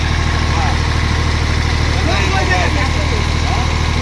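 A 24-year-old tractor engine idles with a steady, loud, low diesel rumble, and voices talk over it.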